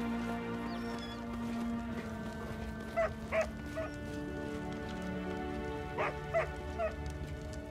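Dog barking in the Pathfinder Kingmaker video game, a few short barks in two clusters over a quiet ambient game soundtrack, moderately close and fairly faint.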